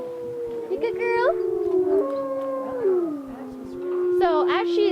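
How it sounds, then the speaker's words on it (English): A coyote at a wolf sanctuary gives a long wavering howl that slides up and down, with sharp high yips and screeching bursts near the start and end, loud and fairly close. "that's actually a coyote, that screech"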